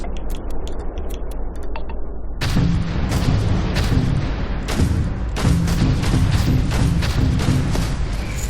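Ship weapons firing in Starfield, a loud, rapid stream of thumping shots with ticking mechanical clicks, starting after a quieter lead-in and continuing densely to the end.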